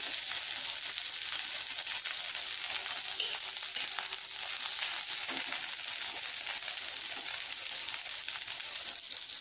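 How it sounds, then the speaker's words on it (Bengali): Mixed vegetables with cauliflower sizzle steadily in a frying pan nearby, with a few stirring knocks and scrapes against the pan. "এভাবে সব সবজিগুলো ভাজা ভাজা করে নিচ্ছি।"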